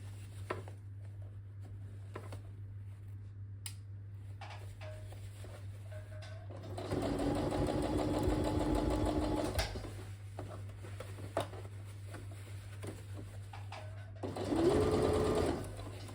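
Sewing machine stitching a workwear jacket sleeve at a slow pace: a steady motor whir runs for a few seconds, then a second shorter burst follows after a pause, near and fairly quiet, with a constant low hum underneath.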